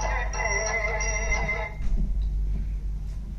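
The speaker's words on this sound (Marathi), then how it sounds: "बायकोचा फोन आलाय" A mobile phone rings with a melodic ringtone for an incoming call, playing clearly for under two seconds before cutting off, leaving quiet room background.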